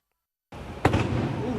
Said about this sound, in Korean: 불길에 휩싸인 버스 한 대에서 큰 폭발음이 터져 나옵니다